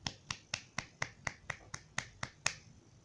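One person claps slowly in an otherwise quiet room, about ten sharp, evenly spaced, close-up claps in a steady rhythm.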